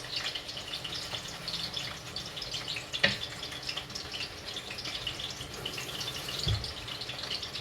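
Water trickles and splashes softly into a cooking pot, a quiet steady pour with a couple of small clinks.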